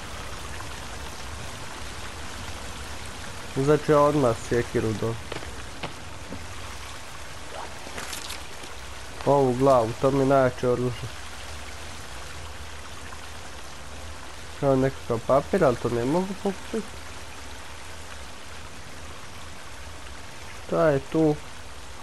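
A secret sea passage in The Forest video game carries a constant watery rushing ambience, like trickling or pouring water, steady from start to end beneath short bursts of someone talking.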